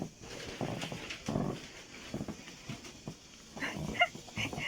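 A beagle gives a run of short barks and whimpers, close and intermittent, with whiny high yelps toward the end and no talking over it.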